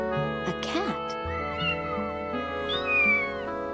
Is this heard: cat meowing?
yes